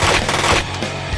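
Rapid bursts of gunfire from a 2020 action movie trailer, loud and close, a quick rattling volley of shots that fades out within about a second.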